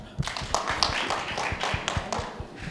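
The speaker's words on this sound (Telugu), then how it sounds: "మనం చప్పట్లు కొట్టండి" An audience at an awareness seminar claps in a loose burst of sharp, uneven hand claps, fairly close and moderately loud, lasting a few seconds.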